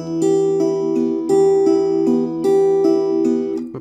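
Fingerstyle acoustic guitar plays the second part of the STALKER theme, three repeated phrases of plucked notes over held chords, close and clear with no voices.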